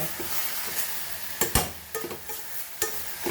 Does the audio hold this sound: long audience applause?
no